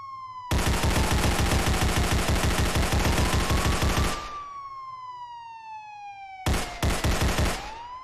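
Rapid, evenly spaced gunshots fire in a long loud burst and then a shorter second burst in a SpongeBob horror video game, with a wailing police siren sweeping continuously beneath them.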